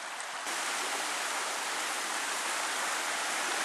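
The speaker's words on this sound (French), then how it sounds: "bruit très agréable d'une rivière qui coule" Steady, even rushing of the Cotenté river flowing, a close and continuous broadband wash of water with no voices.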